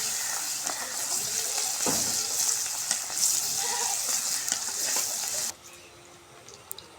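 Chopped onion sizzles in hot oil with white cardamom, two cinnamon sticks and two cloves, a bright crackling hiss that runs steadily, then drops away abruptly near the end.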